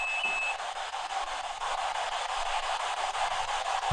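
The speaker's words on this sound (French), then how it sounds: "capteur le bip à la température qui se déclenche." A temperature sensor gives off a brief high-pitched beep near the start, then a steady hum and background noise fill the rest.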